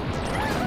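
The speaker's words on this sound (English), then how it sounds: "I smashed his face with a boulder!" A boulder crashes into an enemy in Super Mario 3D World, a brief, dense, loud smash with a rumbling crunch.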